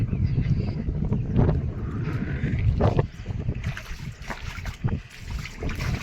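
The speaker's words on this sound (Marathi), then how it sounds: "बघा, गार गार वारं सुटलंय मस्त" Cool wind blows outdoors after a summer rain, rushing and buffeting the microphone in gusts with faint trickling water, loud at first and easing later.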